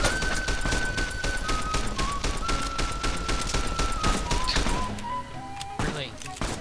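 A sustained volley of gunfire in Fallout New Vegas aimed at blowflies, loud and rapid shots firing nonstop over game sound, thinning out near the end.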